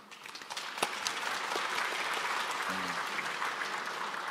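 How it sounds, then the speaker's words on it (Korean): Applause from attendees at a provincial public hearing in Haenam County, a steady, fairly close wash of many hands clapping that holds even for the whole span, with one brief low tonal blip midway. "해남군에서 잘했다 하니까 박수를 많이 치시네요"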